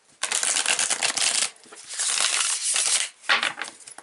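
Close-up tarot card shuffling in quick riffling bursts, with a brief pause in the middle before another short burst of cards being shuffled.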